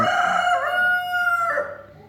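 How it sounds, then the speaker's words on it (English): A single loud rooster crow nearby, rising then holding a long strained note before trailing off. "damn rooster, shh."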